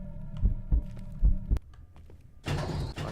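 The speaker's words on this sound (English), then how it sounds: "You can hear his heart beating." A slow, soft heartbeat in the video game Away: Journey to the Unexpected: paired low thumps repeat in a steady rhythm over a quiet ambient hum, followed by a brief burst of noise.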